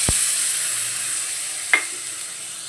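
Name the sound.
ginger, garlic and green chili paste frying in a pan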